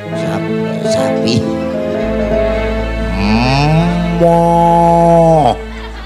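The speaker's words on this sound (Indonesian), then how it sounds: "Sapi." A cow moos loudly and close by in one long drawn-out call that rises and then falls off. People talk and laugh briefly just before it.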